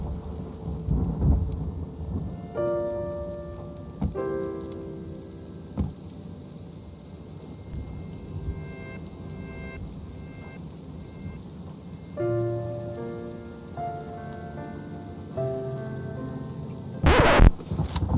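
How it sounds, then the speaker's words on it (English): Rain falling on a boat deck in the video game Rust, a steady soft patter with low thunder rumbles and a sharp crack near the end, while tonal game chimes play over it. "I couldn't help but notice the cozy atmosphere of the rain on the deck"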